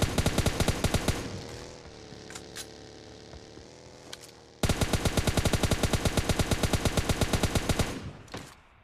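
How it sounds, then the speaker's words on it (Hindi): Rapid automatic gunfire in the video game PUBG Mobile Lite, a long burst of close, evenly spaced shots, a pause with faint background hum, then a second sustained burst, with no talking. "भाई इस पर मैं काफ़ी शॉट्स लेता हूँ, पर बंदा बच के निकल जाता है"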